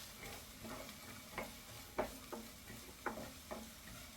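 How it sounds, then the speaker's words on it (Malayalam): Chopped onions in hot oil being stirred for a mushroom masala: a very quiet, soft sizzle broken by a handful of sharp spoon scrapes and taps against the pan, with no voices. "എണ്ണ ഒന്ന് ചൂടായി വരുമ്പോഴത്തേക്കും നമുക്ക് ഇനി വെച്ചിരിക്കുന്ന സവാള ഇട്ട് കൊടുക്കാം."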